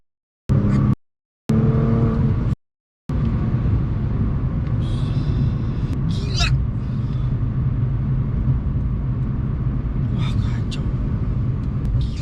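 A powerful Nissan GT-R R35 engine roars steadily as the car accelerates hard under rough, rumbling road noise, with a few brief gaps near the start before it runs on continuously.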